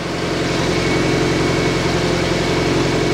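A Subaru Impreza GC8 with an overhauled engine idles with a smooth, even low hum and faint regular pulsing, steady and close, with no talking.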